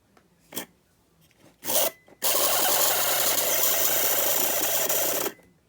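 An HO scale model locomotive's small electric motor, with rotted drive bands, whirs steadily and loudly for about three seconds after a few brief starts, with a gritty, rasping mechanical texture before cutting off.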